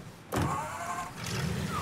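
A car taken in Mafia 3 starting up: a brief quiet, then the engine catching abruptly and settling into a steady close idle hum, with a second surge of sound a moment later.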